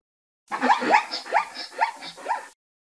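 A zebra calls in a series of about five sharp, barking yelps, each rising then falling, evenly spaced over two seconds, clear and close.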